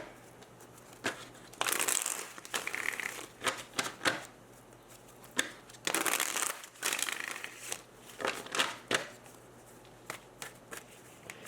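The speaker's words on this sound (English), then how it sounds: "let's pull out your cards for you and your person" A deck of tarot cards being shuffled by hand close up, with repeated riffling and crisp papery slaps in uneven bursts separated by brief pauses, with no talking.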